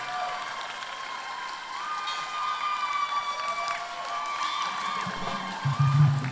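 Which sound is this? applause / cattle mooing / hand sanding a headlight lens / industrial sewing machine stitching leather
applause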